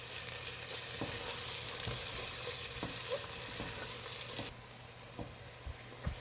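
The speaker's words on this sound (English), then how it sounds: "Now I'm going to add my garlic ginger chili paste to the onions, and this is going to be cooking for another 20 minutes" Onions frying in a pan with garlic, ginger and chili paste added, a steady dense sizzle with occasional soft stirring scrapes, close and continuous without speech.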